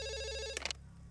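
A telephone rings loudly in one electronic burst, then stops with a short clatter as it is picked up, leaving a low hum behind.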